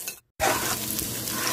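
Onions sizzle in hot oil inside a pressure cooker, a steady, dense frying hiss that bursts in loudly after a brief silence and continues close by.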